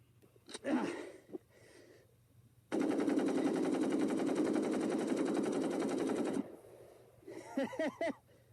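Sustained fully automatic burst from an AK-47 rifle during Russian AK-47 tests, roughly four seconds of loud continuous rapid fire, with brief talk before and after.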